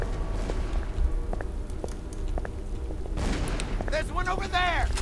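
Scattered gunshots crack as isolated bangs over a low rumbling game ambience in Call of Cthulhu: Dark Corners of the Earth, followed by a burst of noise and a warbling, whistling creature-like cry near the end.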